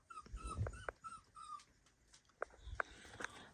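A dog, upset at being left behind, whimpers and cries in a quiet indoor room, with a few separate high whining cries and soft yips.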